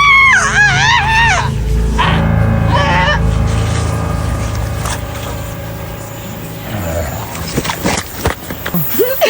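Person screaming in a Filipino horror scene about an aswang, loud wavering shrieks at the start and again around the third second, followed by rustling movement and scattered thuds toward the end.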